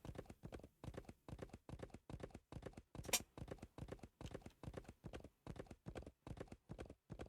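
Horse hooves clip-clop steadily in the Wild West Dynasty video game, a fast regular run of hoofbeats that continues for the whole stretch at moderate loudness, with one sharp click partway through.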